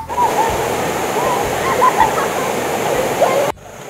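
Chet Sao Noi Waterfall in Muak Lek, Saraburi, Thailand, pours in a steady, loud rushing roar heard close by, with faint voices in the background before it cuts off near the end.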